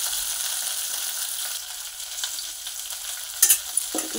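Sliced onions and green chillies with a little salt sautéing in a pan, a soft steady sizzle with a couple of sharp utensil clinks near the end.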